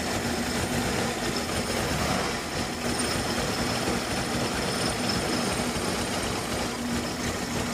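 An old car engine running rough on a cold start, idling with a dense, steady mechanical rumble and a faint whine on top, loud and close throughout with no talking.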